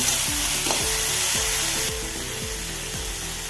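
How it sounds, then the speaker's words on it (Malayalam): Tomatoes are frying in a pan with a dense, close sizzle, while a spatula scrapes in a regular rhythm of about six strokes. The frying eases slightly partway through, and no one speaks. "അപ്പോൾ തക്കാളി ഇട്ട് കൊടുക്കാം തക്കാളി ഇട്ട് ഒന്ന് വാട്ടിയെടുക്കണം"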